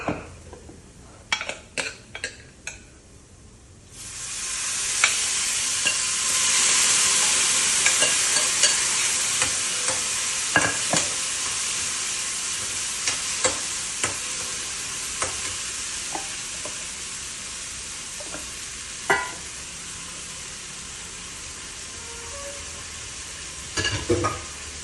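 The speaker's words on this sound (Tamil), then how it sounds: "இப்போ வந்து நான் வந்து இந்த வேக வச்சு வச்சிருக்கிற சொரக்காயை இதில் வந்து போடுறேன்." Boiled bottle gourd goes into a frying pan for a South Indian kootu: a few clinks of a utensil, then a loud sizzle bursts up and settles into steady frying with repeated stirring scrapes and taps, close by.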